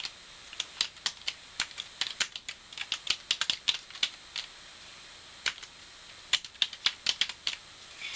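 Typing on a computer keyboard while entering a name into address labels, a steady run of close, crisp key clicks in quick bursts with short pauses, no voices.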